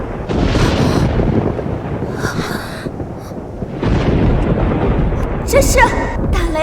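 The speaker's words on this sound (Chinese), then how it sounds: "这是打雷了吗？" A heavy, rumbling thunder roll sweeps through as a sound effect in a period costume drama. It is loud and broad, and swells again midway, with voices and sharper cries heard over it near the end.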